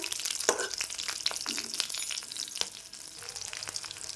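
Panch phoron spices with dried red chillies and slit green chillies sizzling in hot oil in a pan, a steady crackling fry with sharp pops and a few spoon scrapes, close and alone.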